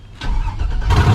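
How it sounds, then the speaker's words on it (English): An LS-swapped ramp truck engine cranks and catches through open headers, a loud, rough, close burst of engine noise that swells as it fires. "damn, listen to those open headers"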